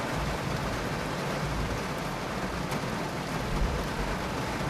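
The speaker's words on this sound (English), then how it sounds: "Just listening to the raindrops pounding on the roof here." Rain pounding on a roof on a wet morning in North Naples, Florida, a dense steady hiss of drops, even and continuous with no other sounds or voices.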